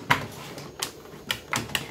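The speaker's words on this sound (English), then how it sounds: "we'll show you here how these fit right in here, and you'll hear that click again" Plastic Starlux toy castle pieces clicking into place, a handful of small sharp clicks at irregular intervals, close and fairly loud with no talk.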